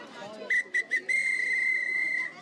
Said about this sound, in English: You brought the whistle?